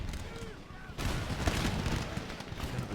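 Infantry volley gunfire from an Empire Total War battle with Darthmod, a dense crackle of musket shots bursting in after a quieter first second and rolling on steadily, with someone talking over it.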